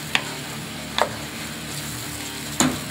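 Jalapeño frying in a pan, with a soft continuous sizzle broken by three sharp clicks and scrapes as it is stirred.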